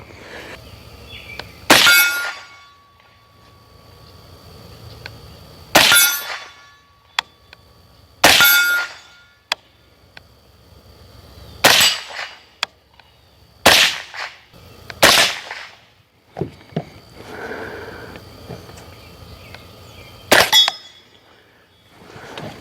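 A suppressed rifle with a Griffin Recce 7 suppressor fires subsonic rounds, about eight sharp cracks spaced irregularly a few seconds apart, each followed by a metallic ring, with no talk.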